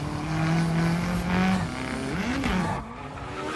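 A Nissan Skyline Hakosuka drifting in Need for Speed Payback, its engine droning and revving while the tires squeal in long sustained slides that rise and fall in pitch, with no speech over it.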